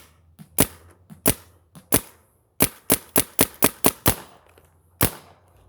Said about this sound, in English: See, now it's dry firing again, even though I got the eyes on.